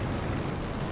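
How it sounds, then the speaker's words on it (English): A rifle grenade explodes in Company of Heroes 2, a loud, dense blast filling the whole second with a heavy low rumble. "Rifle Grenade was used."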